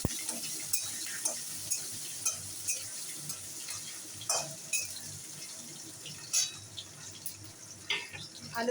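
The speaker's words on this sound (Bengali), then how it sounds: "এবারে আলুগুলো ভেজে নেব।" Potato pieces fry in hot oil for a lentil and paneer dish, giving a soft continuous sizzle broken by regular stirring scrapes and small clinks.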